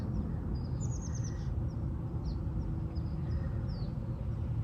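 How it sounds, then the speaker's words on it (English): Outdoor birds give faint, short chirping calls in small scattered bursts above a steady low rumble of background noise, with no voices. "Watching a bunch of birds flying around in circles."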